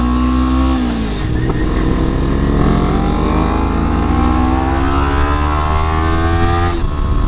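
A motorcycle engine revs and climbs steadily through the gears while riding on a road, loud and close, with a strong rising whine and constant wind rush, and no voices.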